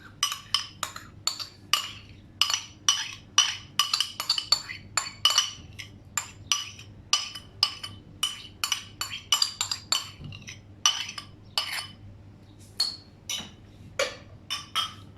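Chicken malai boti marinade of yogurt and cream is mixed by hand in a bowl, giving a steady run of close, bright clinks and taps against the bowl in an uneven rhythm, with no talking.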